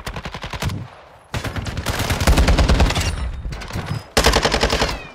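Loud, close automatic gunfire in Warzone 2 comes in three rapid bursts of evenly spaced shots, separated by brief pauses, the middle burst the longest.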